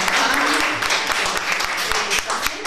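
Applause from an indoor audience at an International Women's Day evening event with a buffet, dense steady clapping that fills the whole stretch loudly.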